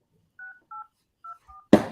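Four clear telephone keypad dialing tones in a steady sequence as a call is placed, crisp and close, followed by a sharp burst of noise at the end.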